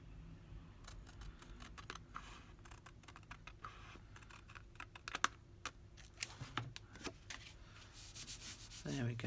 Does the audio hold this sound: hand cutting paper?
yes